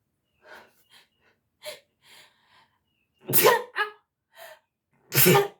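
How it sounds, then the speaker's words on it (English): One loud sneeze bursts out after a few soft breaths and sniffs, and a second sharp sneeze follows near the end. Both are close, with quiet gaps between them. "Oh, I sneezed"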